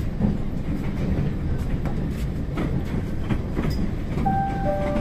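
A train rolls into Central do Brasil station in Rio de Janeiro, a loud, steady rumble with rhythmic rail clatter, ending with faint high tonal squeals of brakes or wheels.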